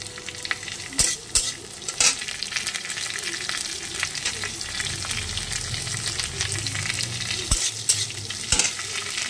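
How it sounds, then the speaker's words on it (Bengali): Chopped onion hits hot oil already crackling with curry leaves, mustard seeds and dried chilli, raising a loud, steady sizzle with sharp spoon-against-pan clatters at intervals. "নেওয়ার পর এর মধ্যে একটু আমি পেঁয়াজ দিচ্ছি।"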